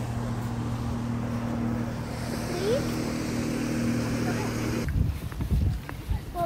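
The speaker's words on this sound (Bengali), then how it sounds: "আর এটা হচ্ছে স্পিড বোট" A speedboat on the water at an eco park gives a steady motor drone for several seconds that cuts off abruptly, then wind and handling noise follow, with people talking nearby.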